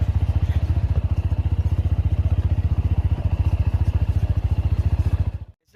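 A TVS Apache RTR 200 4V BS6 motorcycle rolls in first gear with no throttle, its engine putting out a steady, loud, rapid low thumping, close by, until it cuts off abruptly at the end.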